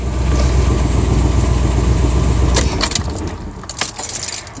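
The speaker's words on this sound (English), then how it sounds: "It's idling up a little high." A car engine with vapor lock from boiling E10 ethanol fuel idles high, near 1200 rpm instead of 750, as a steady close rumble that turns rougher and more uneven partway through.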